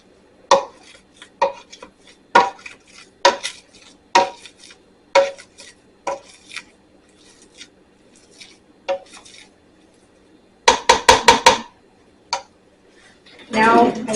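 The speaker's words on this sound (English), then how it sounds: "use my handheld masher and just mash them up" Boiled potatoes being mashed with a handheld masher, a series of sharp, close thumps and scrapes against the pot at an uneven rhythm, with a quick flurry of strikes near the end.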